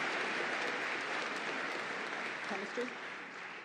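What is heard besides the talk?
audience applause at commencement ceremony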